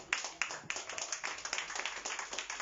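A church congregation claps together in praise, a dense, steady round of hand claps with sharp individual strikes, moderately close and without voices on top.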